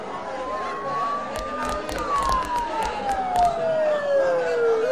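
Sirens in the Persona 4 video game wail in long sliding tones, one rising and then falling steadily, over a dull background murmur, moderately loud and sustained throughout.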